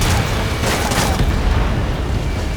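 A missile strike blowing up a target in Ace Combat 7, a loud close boom with crackling debris fading into a steady rumbling backdrop.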